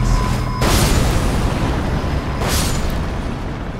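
Explosive enemies detonating in Elden Ring: Shadow of the Erdtree, heard as loud, dense booming blasts that fill the whole clip, with two sharper bursts standing out, and no voice over them.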